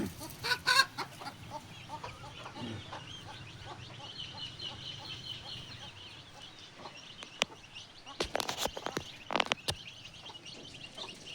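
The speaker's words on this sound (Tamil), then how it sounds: "இதுலேயும் நிறையா கோழி இருந்துச்சு" Chickens cluck and call around a poultry farm, with a hen and chicks nearby, in a steady low chatter and occasional louder squawks, fairly distant and under faint background noise.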